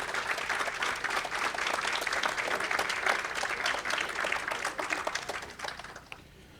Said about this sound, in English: please let's give them all a round of applause